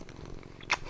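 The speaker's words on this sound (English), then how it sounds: "He started purring more and more often recently." A Ragdoll cat purring softly up close, a faint low rhythmic rumble with a brief brighter rustle partway through.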